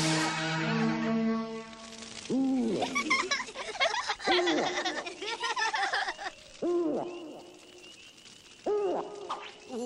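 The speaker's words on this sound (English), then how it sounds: "It's only an owl." A cartoon owl hoots in repeated rising-and-falling calls, spaced a couple of seconds apart, over a bed of music and voices.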